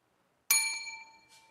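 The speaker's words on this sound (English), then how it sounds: "I'm ringing the bell." A single small bell, probably a service bell, gets one sharp strike and rings out with a bright metallic tone that decays over about a second. It sounds close and clear in an otherwise quiet room.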